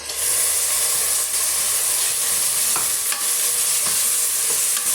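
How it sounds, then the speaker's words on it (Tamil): Ground tomato paste frying in a pressure cooker for chicken gravy, a loud continuous sizzle and hiss with scraping stir strokes and a few sharp ticks, close up with no talk. "இப்போ இந்த தக்காளி பழமும் ஓரளவுக்கு நல்லா வதங்கி வரட்டுங்க"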